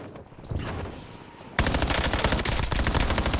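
Rapid automatic gunfire in a Call of Duty battle royale match, a dense, loud burst of shots that begins abruptly halfway through and follows a short stretch of quieter game sounds.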